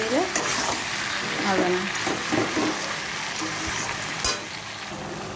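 Thickly cut salted taro pieces sizzle steadily as they fry in a pan for a Bengali curry, with the stirring close by and a voice speaking over it.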